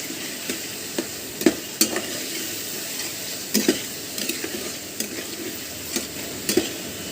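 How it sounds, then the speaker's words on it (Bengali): Shrimp fry in a spiced masala for a Bengali data chingri dish, sizzling loudly and close. A utensil repeatedly scrapes and taps the pan at an irregular stirring rhythm, with no talking. "এখন দিয়ে দেবো চিংড়ি মাছটা।"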